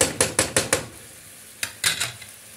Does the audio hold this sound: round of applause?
no